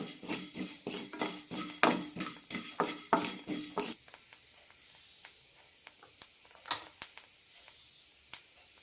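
Rice dry-roasting in a pan for homemade sambar powder, stirred in quick rhythmic scraping strokes for about four seconds, then fading to a few sparse, quieter clinks and scrapes.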